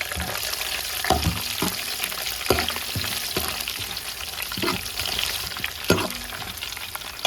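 Chopped ginger and garlic fry in hot oil for a fish pickle, giving a steady close crackling sizzle with periodic scraping stir strokes and spoon clinks about every second or two, no voices.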